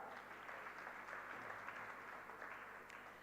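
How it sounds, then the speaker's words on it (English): Faint, distant applause from an audience at a conference inauguration ceremony, a soft continuous patter of many hands heard through a hall's background hum. "So a big clap for Hussain Saab"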